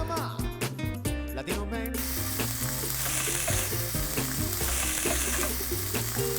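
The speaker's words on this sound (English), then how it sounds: "I'm gonna get that bacon going, just kind of, my pan is pretty hot" Bacon frying in a hot, oiled pan as a Spanish tortilla is being made. A steady sizzle runs beneath loud background music for most of the clip.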